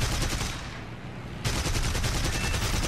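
Rapid bursts of machine-gun fire from a Bf 109 E-3 fighter in the flight combat game War Thunder, a dense steady rattle with a short pause in the middle before firing resumes.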